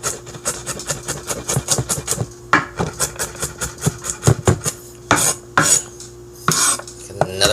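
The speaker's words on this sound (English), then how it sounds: "Another pile and a little bit more chopping." Rapid, steady knife chops through crushed garlic on a cutting board, sharp close-up taps in a quick rhythm, pausing briefly then resuming with some scraping.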